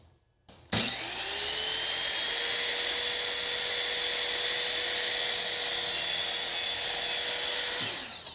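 A sliding miter saw spins up with a loud whine, then cuts slowly through wood for a mitered picture frame, the steady high motor tone holding for several seconds before winding down.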